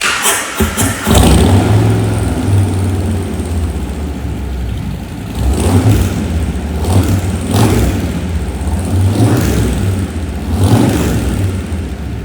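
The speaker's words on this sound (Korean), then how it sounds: "머플러가 반스 머플러입니다. 소리 한번 들어보겠습니다." A 2022 Harley-Davidson Breakout 114 (1868cc) fires up and revs repeatedly through a loud Vance & Hines exhaust, deep throaty bursts rising and falling between rumbling idle.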